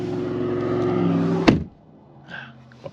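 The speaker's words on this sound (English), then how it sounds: "While this loud truck comes up the hill." A loud truck climbs a hill close by, its heavy low engine drone steady and dominant for about a second and a half before a sharp thump cuts it off, leaving quiet with a faint later rumble.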